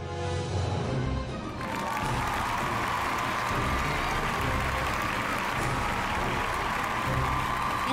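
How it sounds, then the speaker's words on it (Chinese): Studio audience applause welcoming a collector onto the stage of a Chinese antique appraisal show, a steady, dense wash of clapping that swells in after a brief moment and carries on loudly to the end. "让我们掌声有请今天的最后一位藏友登场"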